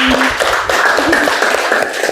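Students in a classroom applaud group 3 after their presentation, a dense, loud, steady patter of many hands clapping throughout with little talk.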